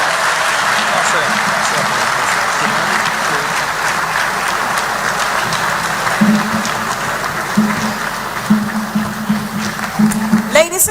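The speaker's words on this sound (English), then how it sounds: "a round of applause for His Excellency John Dramani Mahama, President of the Republic of Ghana" Audience applause for Ghanaian President John Dramani Mahama at a UK speaking event, a dense steady wash of clapping from a large crowd, with hints of voices and a few louder bursts near the end.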